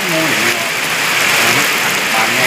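Steady rain falls outdoors in a dense, even hiss of drops that lasts the whole moment, loud and close, with no pause in the patter.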